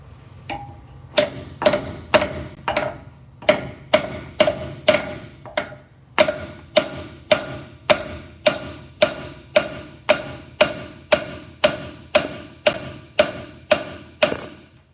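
A hammer strikes metal in a steady series of about twenty sharp, ringing blows, each with a short metallic ring. The beat is even and the sound is close and loud, with no talking.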